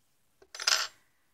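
A pair of scissors is set down on a hard surface during a crochet session, giving one short metallic clack with a brief rattle, close and clear against quiet.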